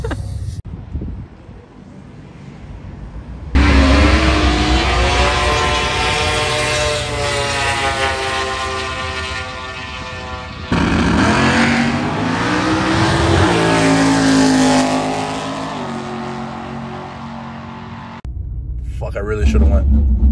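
Cars accelerating hard down a drag strip, engines roaring loudly and rising in pitch through long revving pulls, with pauses between launches and some talk mixed in.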